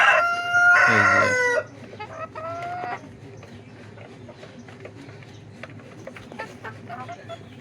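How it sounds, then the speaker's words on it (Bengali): A silkie chicken lets out a loud, close crow lasting just over a second, followed by quieter clucks and scattered chicken calls over farm background noise; a person briefly speaks. "আর উপরে আছে আমাদের সিল্কি মুরগি"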